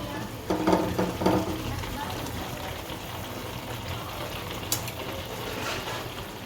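Bottle gourd halwa with milk and sugar simmers and sizzles in a pan while being stirred steadily: a soft bubbling hiss with scraping strokes, louder for the first couple of seconds and then settling into an even murmur.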